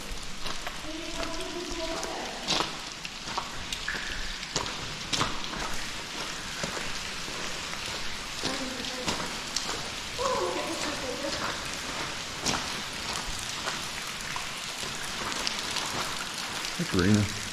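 Water drips and patters steadily inside a train tunnel, like rain on a sunny day, a soft continuous spatter with voices talking at times.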